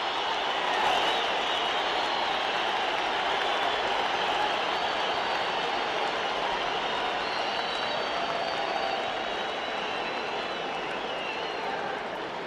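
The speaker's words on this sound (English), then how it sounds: "listen to this crowd at Madison Square Garden in New York" Boxing crowd at Madison Square Garden in New York roaring and applauding before Muhammad Ali faces Joe Frazier, a sustained arena din with distant whistles and cheers rising and easing slightly over time.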